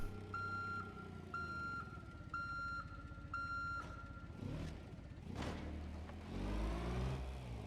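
A forklift in BeamNG.drive beeps while reversing, with about four evenly spaced electronic tones over a low engine hum, followed by engine revving and acceleration bursts, all without talk.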